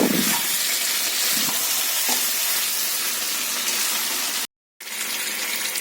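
Spices are sautéed in a pan with a constant loud sizzle and occasional scraping stirs; the frying cuts out abruptly for a moment before resuming.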